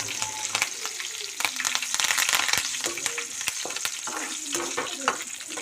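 A tempering of mustard seeds, cumin, garlic, a pinch of asafoetida, three dried red chillies and curry leaves sizzles in hot oil for bitter gourd pickle, steady frying with popping seeds and frequent sharp crackles and stirring scrapes.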